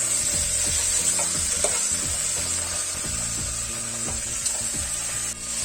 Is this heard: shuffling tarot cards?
no